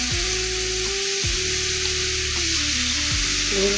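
Red amaranth greens stir-fried in a hot pan, with a steady loud sizzle and repeated scraping strokes of a spatula across the pan.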